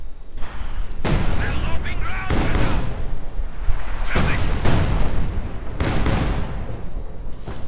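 Field guns firing at a Panzer IV in the Company of Heroes 2 video game: repeated heavy booming cannon blasts about every second or two over continuous battle rumble, with a commentator talking throughout.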